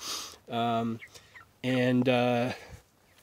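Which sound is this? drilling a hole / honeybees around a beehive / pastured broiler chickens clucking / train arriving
pastured broiler chickens clucking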